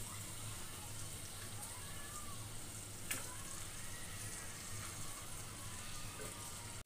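Chopped vegetables fry in a pan of tomato-based mixture at home, giving a faint, steady sizzle with soft crackles that runs unbroken from start to finish.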